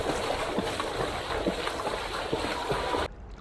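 A swimmer kicks with bent knees, churning water into a steady, splashy rush made of repeated thrashing beats, close and fairly loud, before it cuts off abruptly near the end.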